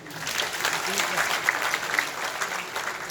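An audience at a live comedy performance at a university claps enthusiastically, a dense, steady wash of applause from many hands throughout.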